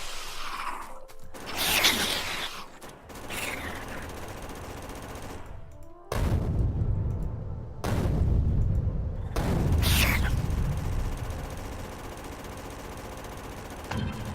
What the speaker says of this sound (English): Throw our grenades.